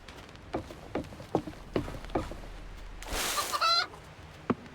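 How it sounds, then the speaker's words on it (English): Chicken in the game REKA gives a run of short, close clucks at an uneven pace. A brief burst of rustling or squawking intrudes partway through, then a final cluck follows. "I got a chicken."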